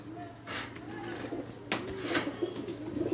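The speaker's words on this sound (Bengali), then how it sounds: "আমি এখন আপনাদেরকে কিছু পাকিস্তানি কবুতর দেখাই" Pakistani pigeons coo softly in a loft in Rajshahi, low repeated calls over a steady hum, with brief rustles and wingbeats.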